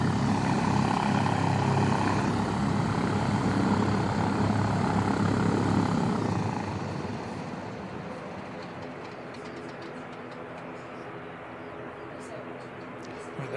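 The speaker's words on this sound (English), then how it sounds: "P68 coming back in for a bit of a refuel." P68 light propeller aircraft coming in to land at Christchurch Airport, New Zealand, a loud droning engine that fades and drops away after several seconds, leaving quieter background rumble.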